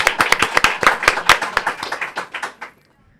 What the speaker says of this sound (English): I want everybody to clap it up for me